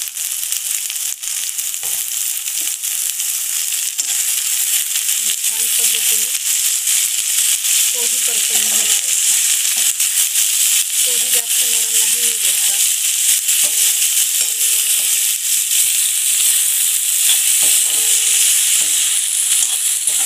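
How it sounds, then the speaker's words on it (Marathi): Shredded cabbage and spring onion for Chinese noodles are stir-fried on a high flame, a loud continuous sizzle with scraping tosses of the spatula and a voice speaking faintly underneath. "मोठ्या गॅसवर ते पटापटा पटापटा असं मिक्स करायचं।"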